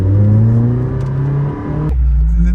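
A turbocharged sports car accelerates hard, engine note climbing steadily in pitch before a sharp drop at a gear change, then pulling again, loud and close.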